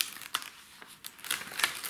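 Protective paper peeled off a 30×40 diamond painting canvas with crinkly, crackling rustles in short bursts, fairly quiet and close.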